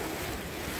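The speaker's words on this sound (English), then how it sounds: "It's so big, the waves." Ocean waves wash onto a beach in a loud, broadband roar of surf and wind, steady across the brief moment with no voices.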